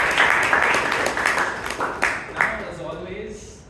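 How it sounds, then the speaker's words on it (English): Applause from the audience at a Bangalore Toastmasters club meeting, a steady wash of many hands clapping that gradually fades, with a voice speaking over it. "Big round of applause for"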